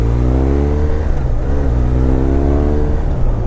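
A throaty BMW R1200R motorcycle engine with an aftermarket muffler revs up and down close by, a loud burbling exhaust note rising and falling without any voices.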